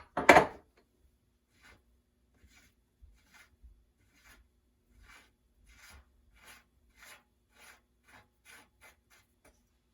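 A square-drive bicycle bottom bracket's outer cup is loosened with a tool: one sharp scraping rasp at the start, then a series of quiet, evenly spaced clicks and scrapes.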